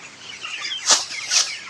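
Twenty-two-day-old farm chickens cluck softly amid wind, with two sharper, louder bursts standing out near the middle and end.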